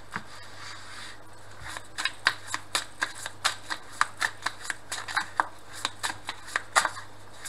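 Oracle cards being shuffled at close range, a steady run of soft, crisp flicks and riffles repeating about three times a second, with no voices.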